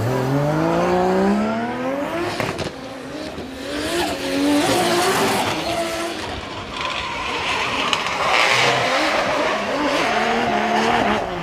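A Toyota GR86 race car at speed during drifting qualifying at Ebisu Circuit West Course in Fukushima, loud engine revving and shifting pitch with tire squeal and skidding throughout, sustained and close.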